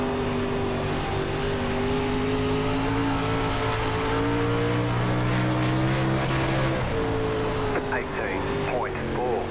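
Pro Late Model race car engine on a dirt track at Knoxville Raceway in iRacing, a loud sustained droning roar with shifting pitch as the car runs through corners, while people talk over it.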